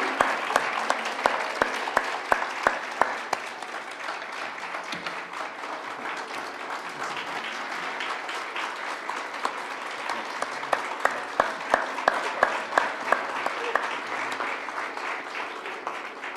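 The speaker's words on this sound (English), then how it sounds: "One more round of applause to an amazing artist." Sustained audience applause fills the hall after a violin and sitar jugalbandi concert at a temple, dense clapping with sharper individual claps standing out, steady and close throughout.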